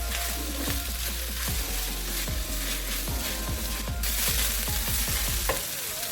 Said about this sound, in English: I brought in the minced fish, and we are going to stir fry this for about 5 minutes.